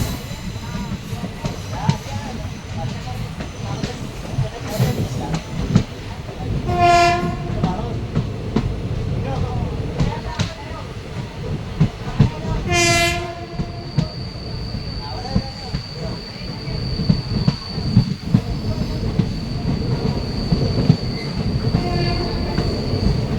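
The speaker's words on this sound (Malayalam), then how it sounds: "ഏകദേശം റെയിൽവേ സ്റ്റേഷനിലേക്ക് നമ്മൾ പ്രവേശിച്ചിരിക്കുകയാണ്" The Madurai–Guruvayoor Express rolls into a small railway station with rumbling wheels and clattering cars, two loud horn blasts, and a high sustained wheel squeal later on, close and continuous.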